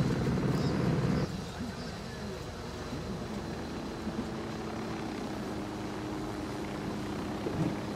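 A helicopter in the video game Ghost Recon Wildlands drones steadily at moderate distance, a low throbbing rotor hum running under occasional player chatter.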